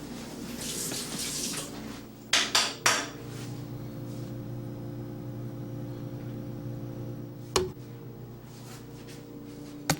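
Tap water runs steadily into a kitchen sink while a spoon is rinsed, with a few sharp metallic knocks against the basin and another clink near the end.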